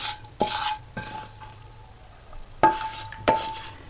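A utensil scrapes and knocks against a dish of cooked pasta with sauerkraut and fried pork fat, several irregular stirring strokes with quiet pauses between the louder clinks.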